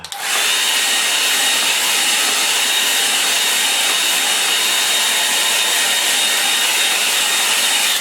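A hair dryer blows steadily and loudly on the foreground of a landscape painting. It is a continuous airy whoosh with no talk, running unbroken from start to finish.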